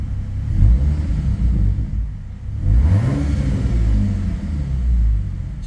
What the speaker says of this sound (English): since I replaced that throttle position sensor, it revs up now